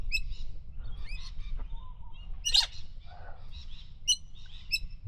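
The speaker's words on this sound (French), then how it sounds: "Là, c'est un perroquet. Il y a plein de perroquets." A yellow and red parrot in a flock near Hervey Bay campground gives several sharp chirping calls, a few near and loud, others farther off, over low steady background rumble.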